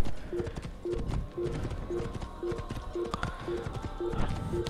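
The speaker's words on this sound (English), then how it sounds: "I'm just going to run on the horse." A horse gallops in an Assassin's Creed video game, its hooves clip-clopping in a steady, even rhythm at moderate volume, with faint game ambience underneath and no talk.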